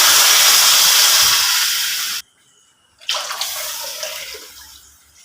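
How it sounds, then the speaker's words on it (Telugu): Water pours steadily into a pan for upma, three cups' worth, a loud continuous rush that breaks off for about a second before a second pour resumes. "1 కప్పు నూక తీసుకున్నాం కాబట్టి 3 కప్పులు వాటర్ పోసుకుంటున్నాం."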